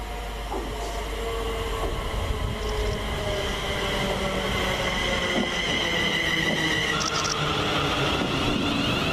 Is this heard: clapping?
no